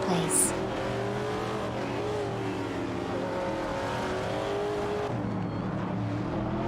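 Racing cars in a video game, a Shelby Cobra and a Porsche 906, engines droning steadily with a sustained tonal whine and a brief tire chirp, with faint commentary-like voice underneath.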